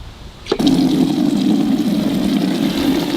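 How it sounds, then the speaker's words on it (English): Water pours from a cube container into a bucket at a bonsai garden, starting with a splash and then a steady, loud, continuous gushing rush close by, with no talk. "So I'm just using my cube to fill up this bucket."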